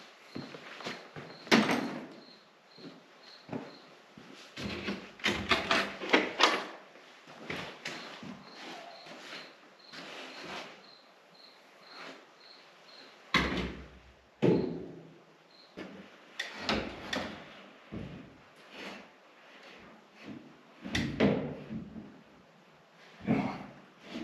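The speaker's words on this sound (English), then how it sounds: "I went ahead and did that on the pins and on the holes on the door, and now I'm going to try to put it on." Metal door for a Case 1570 tractor being worked onto its hinge pins, heard as a string of clanks, knocks and scraping rattles close by, in bursts with short pauses between.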